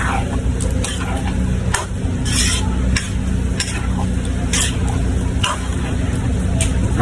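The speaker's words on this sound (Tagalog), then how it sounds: "Ating hahaluin." Sautéed mung bean stew is stirred in a pan, a continuous close sizzle with soft repeated scraping strokes of the spoon running throughout.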